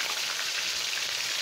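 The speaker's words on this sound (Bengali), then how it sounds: "আমি এখন পেঁয়াজ কুচি দিয়ে দিচ্ছি।" Chopped onions fry in hot oil in a wok, giving a loud, close, continuous sizzle with faint crackle and no voices.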